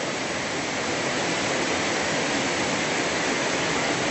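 Giant waterfall at Cascadas del Obraje in Ocuilan, a steady, loud, broadband roar of falling water filling the scene without pause, with no voices over it.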